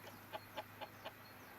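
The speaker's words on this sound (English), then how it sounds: "I got a chicken." Four short, evenly spaced chicken clucks from Counter-Strike: Global Offensive, quiet and close, over a steady low game-world hum with no talk.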